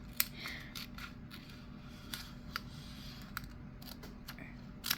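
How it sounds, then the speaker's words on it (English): Scissors snip through heat transfer vinyl in a series of sharp, quiet cuts spread irregularly over a few seconds, close up over a low steady room hum. "I'm going to need to cut this piece."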